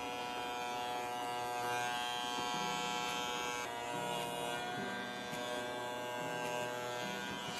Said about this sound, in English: I'm using the clipper comb technique